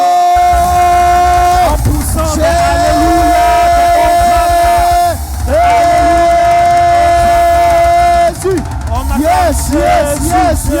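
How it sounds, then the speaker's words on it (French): A church congregation cheers and shouts in acclaim to God, loud and sustained, with voices rising in long held calls, swelling in waves and briefly dipping before surging again. "Et nous acclamons ce Dieu en poussant."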